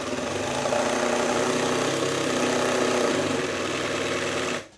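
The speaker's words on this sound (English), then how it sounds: "I'm going to add a bead of glue underneath it before driving in the 2 number 10 screws" Number 10 screws are driven into wood by a power driver while building a table saw lift, a steady buzzing motor whine lasting several seconds before cutting off, close and without talking.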